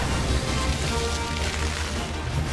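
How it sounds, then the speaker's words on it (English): Acid rain spell effect in the video game Final Fantasy XVI: a steady, dense wash of rain-like hiss and patter, loud and continuous over a low rumble, with no talk. "Acid rain."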